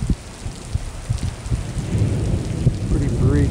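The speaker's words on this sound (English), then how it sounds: "Pretty brief but heavy rain." Heavy monsoon rain pours steadily in Scottsdale, Arizona, a dense close hiss with scattered thumps, growing slightly louder toward the end, with a faint voice in the background.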